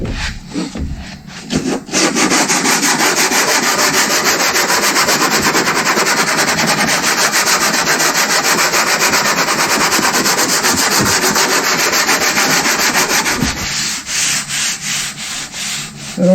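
Steady abrasive back-and-forth rubbing of a sanding block over body filler skimmed on a dented car panel, loud and continuous for most of the stretch with a few slower strokes near the end, no talking.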